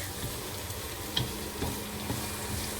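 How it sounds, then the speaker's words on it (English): Onions cooking in a pan, a steady soft sizzle throughout with a few light ticks of a utensil against the pan, close and unbroken, no voices. "we're going to let the onions cook until it turns translucent"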